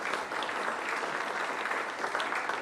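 Audience clapping at a televised event in Grenoble, a dense, steady burst of applause that stays even and fairly loud from start to finish, with no voices on top.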